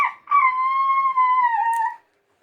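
A single long dog howl, loud and close, holding a steady pitch that dips slightly near the end before stopping into silence.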